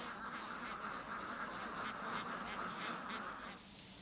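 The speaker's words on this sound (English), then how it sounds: "Peking ducks start life like any other ducks, except that they're treated with much more kindness." Peking ducks on a farm raising them for roasting in China quack as a faint, steady flock chatter, many overlapping calls at moderate distance with no pauses.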